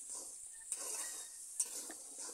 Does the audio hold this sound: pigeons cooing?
no